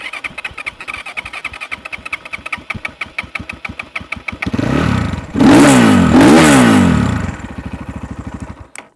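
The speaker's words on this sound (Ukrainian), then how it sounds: "Потрібно покрутити стартером, а потім ще трішки дати газу." A Geon GNS 300 R motorcycle with a 182 engine cranks on its electric starter in a fast, even chugging rhythm, then catches and revs twice loudly before settling back toward a rough idle, all up close.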